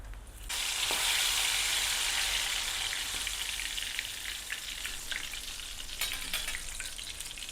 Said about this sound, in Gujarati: તો આપણે મરચાં પણ તળી લઈશું